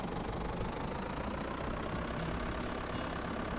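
Steady, dense drone of a farm vehicle's engine running in Farming Simulator 2011 during a barley harvest, continuous with no voices.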